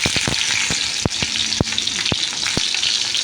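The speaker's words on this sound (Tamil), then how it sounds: "ஆயில் நல்லா சூடாக இருக்குங்க. இப்போ நம்ம என்ன பண்ணலான்னாக்கா, பீன்ஸு எடுத்து அதில் போட்டுக்கலாம்." Green beans drop into hot oil and fry with a loud, steady sizzle, broken by a few sharp clinks of a spoon against the pan.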